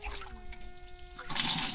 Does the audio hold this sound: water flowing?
yes